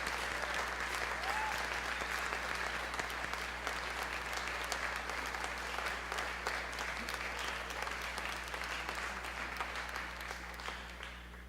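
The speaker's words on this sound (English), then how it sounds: "And I think we can give them another round of applause." A crowd claps at an eighth-grade graduation ceremony, giving a long, even round of applause that holds steady over a low electrical hum and eases slightly toward the end.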